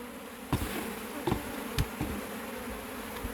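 Steady honey bee buzzing hums throughout, quiet and continuous, broken by a few soft clicks and knocks nearby as hive frames are handled during a cutout from an owl box.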